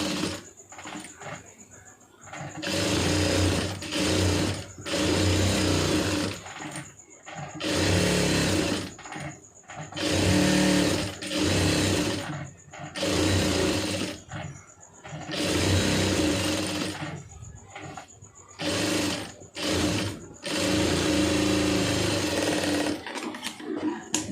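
Sewing machine stitching the lining of a blouse, running in repeated bursts of rapid mechanical whirring and clatter separated by short pauses, close and loud.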